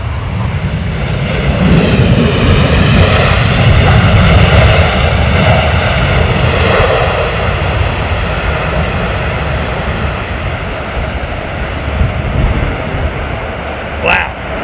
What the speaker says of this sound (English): Stopping that jet, look at that.